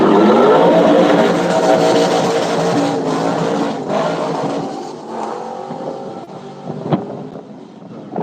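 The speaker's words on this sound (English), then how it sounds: "as he hit the gas, he spun around and lost control right there" A car engine roars loudly as the driver floors the gas, then the sound wavers and thins out as the vehicle spins around and loses control near a stopped truck, with wind buffeting the microphone throughout.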